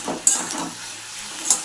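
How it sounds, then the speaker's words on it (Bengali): Onion stalks fry in a pan, a brief soft sizzle marked by two sharp crackling pops. "আর এদিকে হচ্ছে পেঁয়াজ কলি ভাজা বসিয়েছি।"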